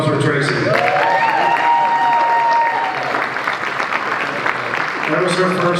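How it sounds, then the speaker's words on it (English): An audience at a performance showcase applauds Tracy after her first monologue, with steady, dense clapping filling the room while voices talk and cheer over it. "round of applause for Tracy"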